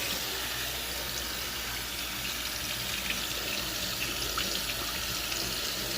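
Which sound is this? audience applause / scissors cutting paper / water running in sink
water running in sink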